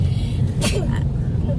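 A single short sneeze inside a moving car, heard once mid-clip over steady engine and road rumble, close and sharp but brief.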